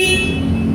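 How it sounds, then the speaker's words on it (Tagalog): Steady, continuous horn blast from a Kymco Skytown 150 scooter, loud and close, a deep, full tone held without a break. "Maganda yung busina niya."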